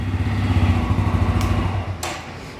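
Bajaj Pulsar N160 BS7 motorcycle engine idling nearby, a loud steady throbbing rumble that fades after about two seconds, followed by two brief sharp clicks or clanks.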